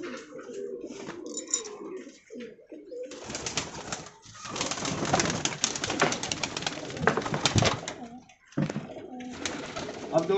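Pigeons coo repeatedly inside a cage, their soft throaty calls layered with rustling and fluttering movement. The birds sound close and fairly loud throughout.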